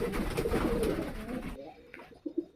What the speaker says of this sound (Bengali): এটা ডেনিশ কবুতর, যারা আসলে আপনার ফেন্সি আইটেম বলে এটা।